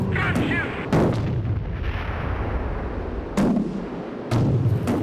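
Rapid aircraft cannon bursts in the Strike Fighters 2 Vietnam flight game, several loud repeated volleys against steady jet engine noise, with a brief voice near the start.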